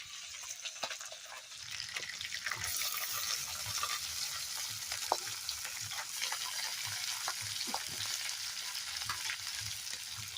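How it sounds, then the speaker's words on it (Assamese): A whole fish fries in a pan with a steady, close sizzle, crackling pops and spits scattered through it, and no talking. "এই পূৰা মাছ ফ্ৰাই হৈ আছে।"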